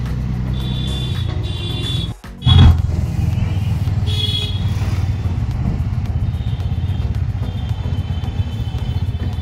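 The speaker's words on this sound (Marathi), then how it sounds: "रिक्षाचं ट्रॅफिक जास्त आहे." Road traffic of auto-rickshaws and motorcycles at the foot of Jivdani hill in Virar: a continuous engine rumble and clatter with passing vehicles, close and fairly loud, briefly interrupted by a sharp knock, then steady again.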